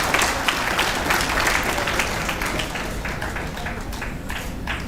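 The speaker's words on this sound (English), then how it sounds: "give a round of applause for all the participants of the hackathon" An audience at a 24-hour hackathon valedictory ceremony claps continuously for the participants, a steady, fairly loud wash of many hands that eases slightly toward the end.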